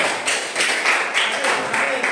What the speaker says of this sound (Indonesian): Silakan tepuk tangan untuk kelompok Anugerah dan kawan-kawan.